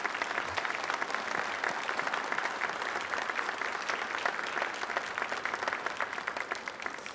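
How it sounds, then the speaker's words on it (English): Steady applause from an audience at a Republican congressional candidate forum, a dense wash of clapping that continues evenly throughout. "let's give our candidates a round of applause."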